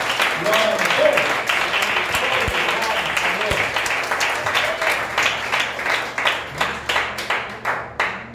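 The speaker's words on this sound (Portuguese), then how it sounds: "Aplauda Jesus." Church congregation clapping during a Portuguese-language worship service, a loud close crowd of applause that thins into distinct rhythmic claps near the end.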